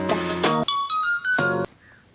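A mobile phone ringtone rings loud and close, a bright electronic melody of chiming tones and short note runs that stops abruptly, leaving near silence.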